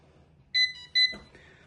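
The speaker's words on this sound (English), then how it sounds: "You can hear it beep. That's the sensor." Two short, bright electronic beeps from a wireless water leak sensor dipped in water, in quick succession, fairly loud against a quiet background, followed by a soft clatter.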